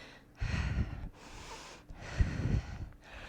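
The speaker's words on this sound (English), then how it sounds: "You can use some noisy exhales to get you moving" Two forceful, noisy exhales during a lower-body HIIT workout, each a loud breathy burst lasting about half a second, separated by a quieter pause, close to the mic with no talk.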